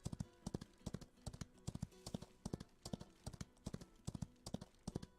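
Horse hooves clip-clop at a steady walking rhythm in the Old West video game Outlaws of the Old West. The paired, regular hoofbeats run throughout, close and clear, with no talking.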